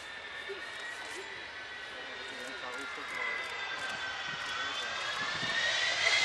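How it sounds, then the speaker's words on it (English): The Avro Vulcan XH558 jet bomber comes in to land at an airshow, its jet engines giving a rising whine and rumble that swells toward the end, while a voice speaks over it. "let's just watch Martin and Kev bring the Vulcan in to land"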